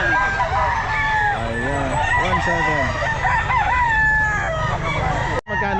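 Gamefowl roosters crow repeatedly at a busy pet market, several long rising and falling calls overlapping over steady crowd noise and a voice talking nearby.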